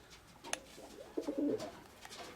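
Pigeons kept in a loft coo softly nearby, a brief low throaty burst of cooing after a faint flutter, with no talk.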